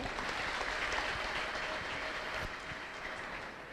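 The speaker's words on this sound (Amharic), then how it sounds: "አጨብጭቡና ሸኙዋት" Church congregation applauding at a prophetic worship service, a dense, steady wash of clapping hands that fills the whole moment at even loudness.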